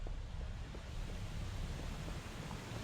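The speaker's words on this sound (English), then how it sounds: "I hear water, actually." Faint, steady rushing water flowing on the Damnation map in the Halo video game, a continuous broadband wash like surf or wind with no talking.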